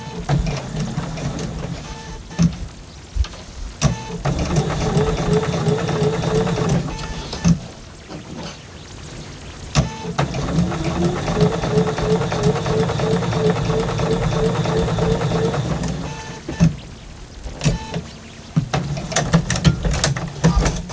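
A sewing machine stitches along fabric tote handles in long steady runs of rapid mechanical whirring, broken by brief pauses and clicks as the fabric is turned.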